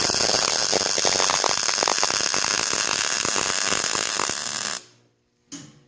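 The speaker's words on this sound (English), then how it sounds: "Then about a 2-inch weld." Welding during a trailer repair makes a loud, steady hiss and crackle for several seconds, close by, before it cuts out into silence with a brief final burst, and no voices are heard.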